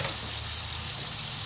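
Sisig frying in a hot pan with a steady, close crackling sizzle that runs unbroken throughout, with no talk over it.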